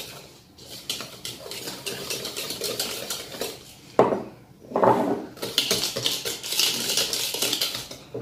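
Cake batter for milk cupcakes stirred in a bowl as oil is poured in, with steady scraping and clinking of the utensil against the bowl and a couple of sharper knocks midway, close up and with no talking.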